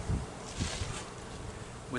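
Honeybees in a beehive during a yard inspection in March, giving a steady, close buzzing drone with a few louder low thumps near the start.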